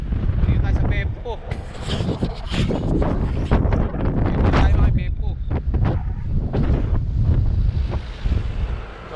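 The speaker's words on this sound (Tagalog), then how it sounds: "Lakas ng hangin, men." Strong wind buffeting the microphone during a long solo road bike ride from Saiki to Beppu, Japan, a loud continuous roaring rumble throughout, with no talk.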